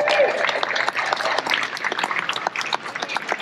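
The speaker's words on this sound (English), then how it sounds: "Another big round of applause, please, for Mr. Michael Bailey, everybody." Audience applause for a performer aboard the cruise ship Wonder of the Seas, a busy wash of many hands clapping with some crowd noise, fairly loud and steady throughout.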